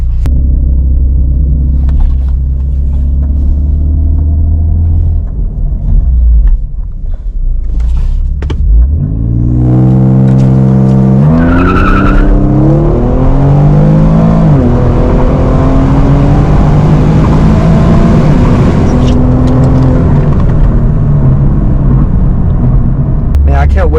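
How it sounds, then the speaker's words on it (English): An Infiniti Q50 doing a second-gear launch, its engine rumbling low before rising sharply in a hard acceleration with rising revs and automatic upshifts, loud and close inside the car, with a voice speaking briefly. "let's try this second gear launch"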